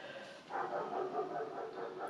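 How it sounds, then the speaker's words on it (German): A neighbour's dog barks at a distance, a faint run of muffled, repeated barks and yips heard indoors through a wall or window. "wenn ihr Hundegebelle hört, unser Nachbar ist so bellt gerade"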